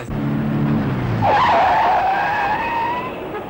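A car's tires squeal loudly in a sharp skid during a chase, following a brief low engine note, then the screech trails off as the vehicle speeds away.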